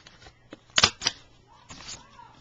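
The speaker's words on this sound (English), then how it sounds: "I'm just using my Fiskars punch" A Fiskars corner punch clicks through card stock to round its corners, giving two sharp snaps close together and then a softer handling rustle. Faint movement and scraping noises sit around the snaps.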